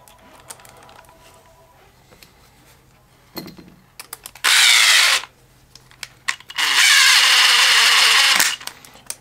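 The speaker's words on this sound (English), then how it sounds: "If you are using a drill, don't go full tight" A power drill drives screws into an RC car's center differential case, cutting new threads, in two sustained bursts, the second longer, with brief clicks and handling noises in the quieter gaps.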